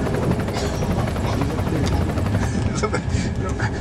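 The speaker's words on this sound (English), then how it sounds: "look at that helicopter" A helicopter passes overhead with a steady, throbbing rotor chop, fairly loud, while people talk over it.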